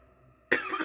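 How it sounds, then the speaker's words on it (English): A single harsh cough bursts out at close range after a brief quiet lull, loud and abrupt with a rough, breathy tail. "How long have you had that cough?"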